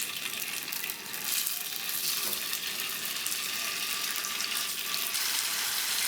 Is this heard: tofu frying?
yes